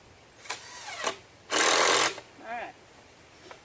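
A power drill drives screws into a wooden fence, with short whirring bursts and one longer, loud run, up close amid quiet background noise.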